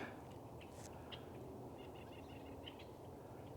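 Songbirds chirp faintly in a quiet patch of woods beside a small creek, short calls scattered through a steady soft background hiss.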